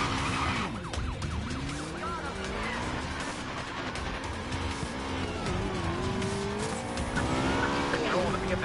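A BMW M5 in a video game police pursuit, its engine revving and shifting with tire squeal and skidding under a continuous police siren, loud throughout with game chatter over it.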